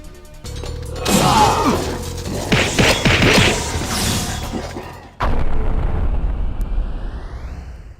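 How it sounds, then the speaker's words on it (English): Dark Bomb room-clearing attack in the Jak 2 video game: a loud, dense burst of crashing and booming impacts that runs for several seconds, followed by a rumbling blast and a thin rising whoosh as it fades. "The one thing that outweighs the bad is the room clearing Dark Bomb attack."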